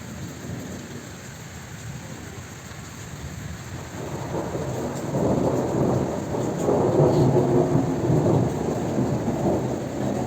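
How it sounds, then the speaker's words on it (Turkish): Heavy rain pours steadily in a village while a deep roll of thunder rumbles and builds, getting louder toward the end. "hala şimşek atıyor çok yağmur yağıyor"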